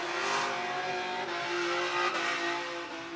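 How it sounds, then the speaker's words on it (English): Drift car at a drift pit held at full throttle, a loud, sustained engine roar with steady high revs and some tire noise, close and continuous with no talk. "Noodle Man just standing on that pedal"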